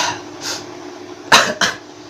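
Three short, sharp coughs break through a quiet steady hum, the first softer, followed by two louder coughs in quick succession.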